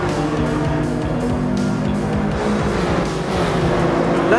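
Race cars in Gran Turismo 7 sweep past an Aston Martin on a European championship circuit, steady loud engine drone with layered revving tones and a faint tire squeal, no talk.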